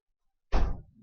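A classroom door thuds once, a single near, fairly loud knock as it is pushed and blocked open, fading quickly into a brief low rumble.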